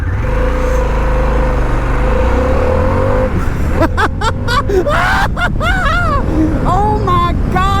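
A three-wheeled motorbike in sport mode opens up hard, its engine note rising and roaring close by, with a rider's excited voice breaking in over the noise partway through.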